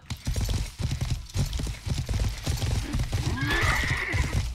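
A horse in the medieval video game Life is Feudal clip-clops in a steady run of hoofbeats, then neighs loudly near the end, close and clear with no talk.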